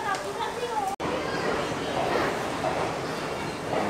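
Busy railway platform ambience at the large Ambala Cantt junction, with a steady rumble of trains and crowd noise, children's voices in the mix and someone talking over it; a brief dropout occurs near the start.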